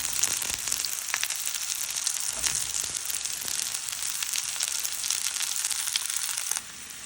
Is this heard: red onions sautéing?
yes